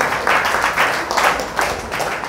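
Church congregation applauding during a Sunday worship service, a steady wash of many hands clapping in loose waves that swell and ease over a couple of seconds, fairly loud and close.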